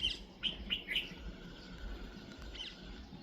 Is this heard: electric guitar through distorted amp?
no